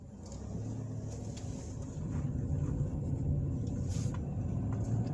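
Car driving through the town of Opp, Alabama, heard from inside as a steady low engine and road rumble with faint intermittent clicks, and no voices.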